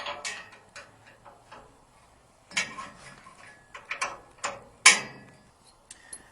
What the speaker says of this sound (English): now what we're going to do is we're going to take off our rear shackle using a 9/16 wrench